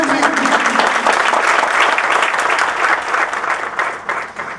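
Steady, dense applause from an audience greets a singer at a ghazal music concert, filling the space evenly for several seconds before tapering slightly at the end.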